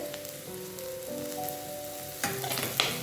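Shallots and green chilies sautéing in a pan for Kerala fish curry, a soft, close sizzle with occasional stirring clatter, growing a little busier toward the end, with no talk.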